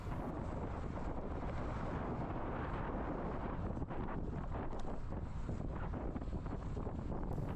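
Steady, loud wind buffeting the microphone throughout, a constant roaring rumble with no voices.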